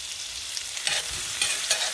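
Red onions frying in half a stick of butter and olive oil in a pan, a steady close hiss of sizzling with light stirring scrapes across a couple of seconds, no voices.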